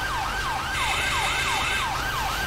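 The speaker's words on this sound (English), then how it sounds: "I think their siren doesn't cut off yet, does it?" A fire truck siren in the GTA 5 video game wails in a fast, repeating rising-and-falling cycle, loud and steady over a low engine hum, with a brief brighter overlay partway through.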